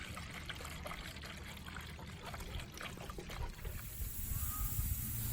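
Water pouring steadily into the coolant system of an Eagle bus, a continuous splashing trickle close by that grows slightly louder and fuller toward the end.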